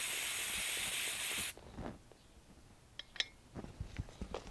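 Aerosol cleaner hisses loudly and steadily from a spray can into an idle air controller for about a second and a half, then cuts off, leaving faint clicks and handling noises.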